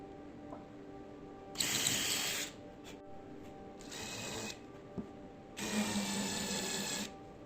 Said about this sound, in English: just to drill out the holes to place the threaded inserts in